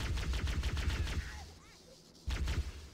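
Enemy weapons in Halo: Combat Evolved fire in rapid, steady bursts of repeated shots, dropping out briefly before another volley starts, with a faint voice underneath.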